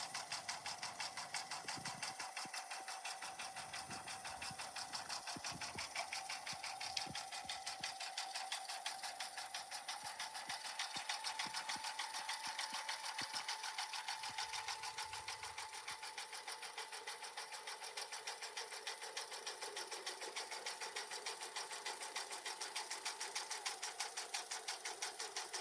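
A sewing machine stitching a patch at reduced speed gives a rapid, even mechanical clatter that runs continuously and fairly close, with a steady whirring drone underneath and no speech.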